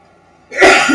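A single sudden sneeze, close and loud, bursting out after a near-silent moment.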